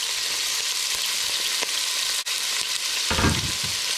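Roughly chopped red onion and garlic frying in a pan, a dense continuous sizzling hiss, loud and close, with a brief dip and a low stirring rumble near the end, no voices.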